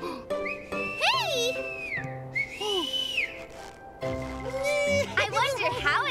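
Whistled tones rise and fall in a melodic line, with several clear pitch sweeps and held notes, set among a children's cartoon scene with background music and voices.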